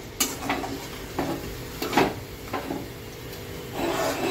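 A moong bean mixture is sautéed in a pan, with scattered scraping and knocking of a spatula against the pan over a soft background, irregular strokes at close range and no talking.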